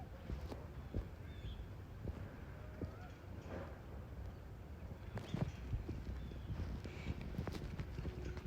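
Thoroughbred brood mares walk on a stud farm, their hooves clip-clopping in an irregular, moderately close rhythm over faint wind outdoors.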